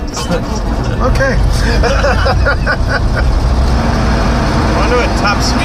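A heavy tow truck engine with a four-speed transmission rumbles continuously while driving, low and loud, with road noise and some voices murmuring underneath.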